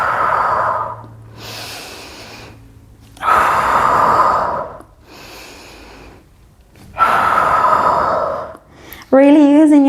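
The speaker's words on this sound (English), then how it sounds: "I'm really focusing on my breathing." Heavy, forceful breaths during a Pilates hip bridge in a glutes and upper-body strength workout, with three long exhales alternating with quieter inhales. A short bright vocal sound closes the clip.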